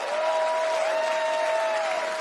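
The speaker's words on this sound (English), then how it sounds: "Big round of applause for Shauna." A studio audience on the Australian game show The Floor applauds a departing contestant named Shauna. The clapping is steady and dense, with a sustained musical tone over it and no talk.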